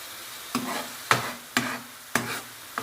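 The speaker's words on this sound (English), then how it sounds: "You can see it's starting to bubble there." Chicken Madras curry sauce cooking in a pan, a steady low sizzle and bubbling broken by four sharp stirring scrapes spaced about half a second apart, close and fairly quiet.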